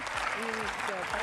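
A crowd at a Valorant esports watch party claps in a steady, dense wash of applause, close and continuous throughout, with voices mixed in underneath.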